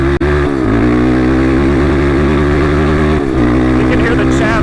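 A desert race motorcycle screaming at top speed through sand over whoops, its engine loud, close and sustained with steady high-pitched harmonics and slight pitch dips as the bike works over the bumps.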